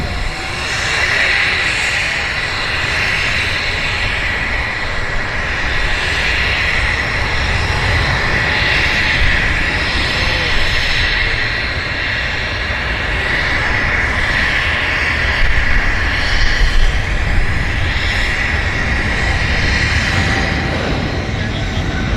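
An aircraft rolling down the runway at Vancouver airport, its engines a loud, sustained roar with a steady high whine, holding constant throughout the takeoff run.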